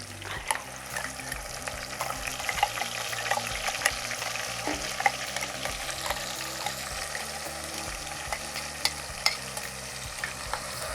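Tomato, garlic and ginger paste sautéing in oil for a Kerala sardine curry, with a steady sizzle and repeated scraping stirs of a spoon in the pan, close and continuous with no voices.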